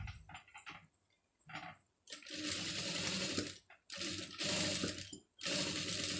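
A sewing machine stitches a rounded scallop border on a saree in short bursts at first, then in longer steady runs of rapid whirring and clicking, with brief pauses between.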